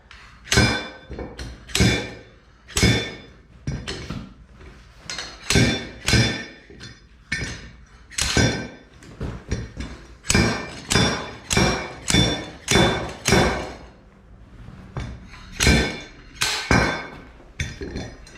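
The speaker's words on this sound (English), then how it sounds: "Then you take your slide hammer and pound it out." A slide hammer pounds a part out of a Suzuki Vinson 4x4 ATV's stripped differential, about twenty sharp metallic blows landing close and loud in an uneven, steady rhythm.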